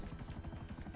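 A helicopter in GTA V thrums close by with rapid, steady rotor pulses, a short continuous burst of low chopping beats heard alone.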